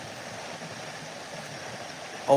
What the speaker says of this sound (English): Look how fast this water's moving, Charlie.